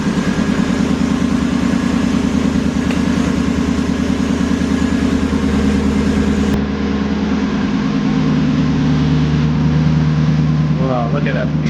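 A Lexus SC400 with its 1UZ V8 idles steadily, a deep, even low rumble that holds through the whole stretch, with a voice talking faintly over it.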